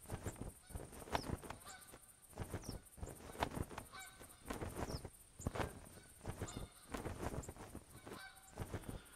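Flocks of Canada geese honk repeatedly in theHunter Classic hunting game, overlapping calls in irregular bursts that range from near and loud to farther away, continuing without pause and with no talk.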